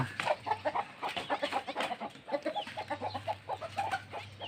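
Chickens clucking close by in a garden of flowering plants, a rapid run of short pulsing clucks in an uneven rhythm, fairly soft, with a low hum underneath and no talk.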